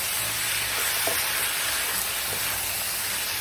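Broccoli and other vegetables for beef and broccoli fry in a pan with a steady, even sizzle and hiss, close by and without talk.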